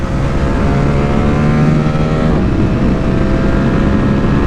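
A Yamaha R7 motorcycle lapping a racetrack in Andalusia: a loud, continuous engine drone holding high revs, with a pitch shift midway as it changes gear, heard close without talk.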